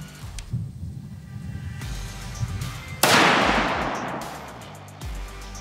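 Remington 700 rifle firing .223 Remington rounds at a 25-yard range: one sharp, loud shot with a long decaying echo, following quieter low rumbling and handling noise.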